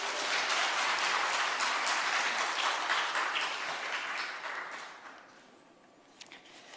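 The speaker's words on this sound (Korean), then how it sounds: "목사님 나오실 때 큰 박수로 환영해 주시기 바라겠습니다." A church congregation at a Korean women's mission society dedication service claps for a pastor coming forward. The dense, steady applause fills the room, then thins out and fades over the final seconds.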